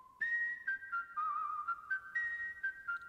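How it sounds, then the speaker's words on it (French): Human whistling of a tune evoking Son Gohan's whistle: a faint, clear melodic whistle with short gliding notes and small gaps, heard alone without talk. "D'où, justement, le sifflement de Son Gohan."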